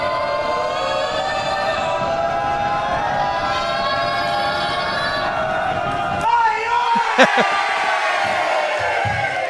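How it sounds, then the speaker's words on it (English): Crowd at a wrestling show cheering loudly: sustained massed voices with long drawn-out whoops and yells hold steady for several seconds, then break into a few sharper shouts and sudden bursts. "Everyone cheer really loud"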